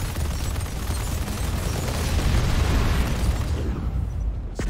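An airstrike explodes in a military shooter game, a loud, close, rumbling blast with deep booms and debris roar sustained for several seconds before cutting off.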